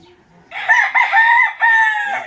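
A single loud, close crow from a young rooster about six months old, rising and holding for about two seconds, heard clearly on its own.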